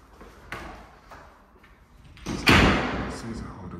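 Cupboard doors in a bedroom open and shut: a few soft knocks followed by a louder thud and a rattling slam near the end, close by, with faint talk in the background.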